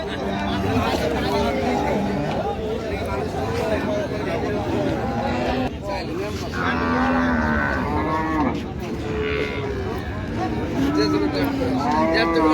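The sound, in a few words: cow mooing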